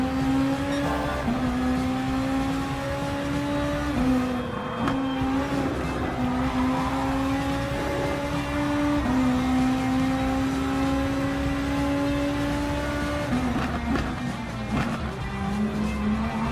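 Race car driving in Gran Turismo Sport, its engine a loud, continuous roar that rises and steps down through gear shifts, with tire squeal through the corners.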